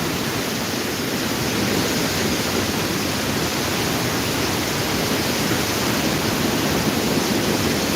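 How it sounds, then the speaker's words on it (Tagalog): Typhoon Uwan winds in Tigaon, Camarines Sur, a dense continuous roar of rushing wind and rain, steady and loud throughout with a faint high hiss, no voices. "Sumisipol lang hangin."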